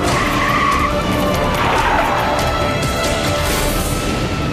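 A car driven by a fleeing driver in a high-speed police chase accelerates hard, tires squealing and skidding loudly in a long continuous screech over the engine roar.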